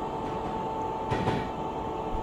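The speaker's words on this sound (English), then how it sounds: "Train running nice and smooth." A train rumbles steadily along the track in Train Simulator, with a continuous low drone and a faint tone on top, plus a slightly louder clatter midway through.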